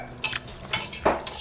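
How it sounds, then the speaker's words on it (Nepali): Oil being heated in a pan while cooking paneer momo at home, with a few sharp metallic clinks and scrapes of a utensil over a low background, no talk. "तेल भुट्दै"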